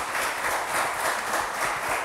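Steady audience applause from a studio crowd on the French game show Le Trône, an even wash of clapping at moderate volume with no clear gaps.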